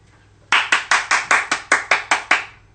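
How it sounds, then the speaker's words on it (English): Ten sharp claps ring out in an even, steady rhythm, each crisp and fairly close, like hands clapping from a window as a thank-you to healthcare workers; no voices are heard. "now's the time to clap as a quick display of thanks for healthcare workers"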